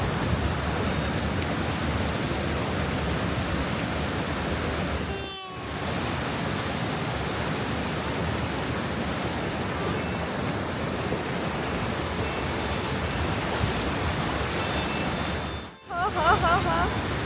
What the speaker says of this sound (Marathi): शेजारून असे खूप खूप जोरात पाणी वाहतं आहे